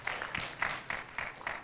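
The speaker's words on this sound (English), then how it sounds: "So maybe we give the applause for the Mr." An audience at an international seminar applauds a presenter, a faint, distant patter of clapping coming in soft regular bursts.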